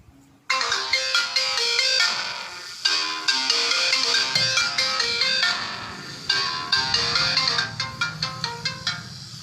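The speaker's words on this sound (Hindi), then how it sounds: "रिंगटोन की आवाज़ में सुना के दिखाता हूँ एक बार।" A Samsung Galaxy A10s phone speaker plays a melodic ringtone loudly, its notes crackling and distorted throughout, with no talk.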